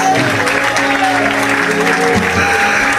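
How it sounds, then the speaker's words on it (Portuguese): Church congregation applauds during a sermon, a dense, loud, continuous wash of clapping with background voices and faint music mixed in. "quantos podem aplaudir a Jesus?"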